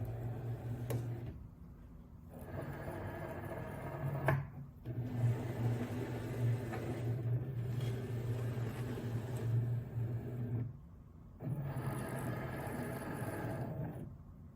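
A Cricut cutting machine draws in a cutting mat loaded with glitter iron-on vinyl and measures it, giving a soft steady motor whir with short pauses and small clicks, quiet and close with no talk.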